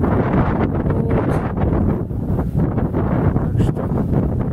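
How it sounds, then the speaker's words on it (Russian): Strong outdoor wind roars steadily across the microphone with heavy buffeting, mixed with a low wash of waves at a former border site, loud and continuous with no talk. "Такой ветер, такая волна."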